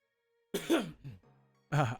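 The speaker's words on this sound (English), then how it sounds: "I move my face away from the microphone to clear my throat" A man clears his throat close to the microphone, two rough bursts separated by a short pause, with a low hum lingering between them.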